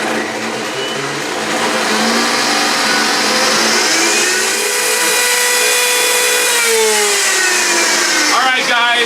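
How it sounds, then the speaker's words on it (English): An empty Blendtec blender ramps up with a loud, steady motor whine whose tone climbs and shifts throughout, then shows a brief warbling flutter near the end, dominating the whole stretch. "Now we're just going to go ahead and ramp up the Blendtec here."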